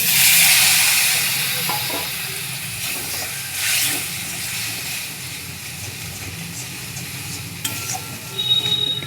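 Hot water poured into spice paste of fried, ground coriander and cumin frying in a pan, giving a broad steady sizzle and hiss with some stirring. It is loud at the start and eases off, with no talk.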